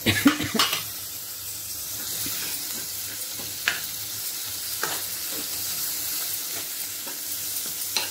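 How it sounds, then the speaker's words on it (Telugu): Tomato and coriander fry in oil for a greens curry, making a continuous moderate sizzle with repeated spatula scrapes and clinks against the pan, and no one talking. "టమాటా కూడా ఆయిల్లో మంచిగా ఫ్రై కావాలి"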